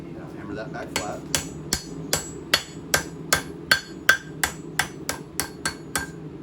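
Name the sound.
hammering a knife blade flat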